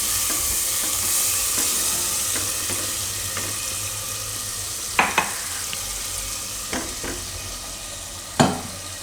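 Peeled tomatoes sizzle loudly in a spiced tempering of chilli and masala for a Surti green val and potato curry, a constant close hiss broken by several sharp clanks of a spoon against the pot.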